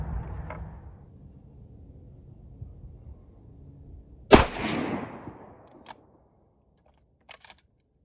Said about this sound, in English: I'm just gonna fire these old hand loads